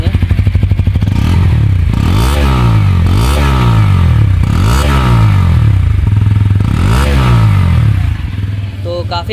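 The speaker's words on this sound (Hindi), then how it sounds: "अब चलिए थ्रॉटल लेके इसका इंजन सिलेंसर का साउंड सुनेंगे।" A Bajaj Pulsar N160 motorcycle engine is revved hard with the throttle again and again, roughly five rising-and-falling surges over a steady idle, loud and close through the silencer.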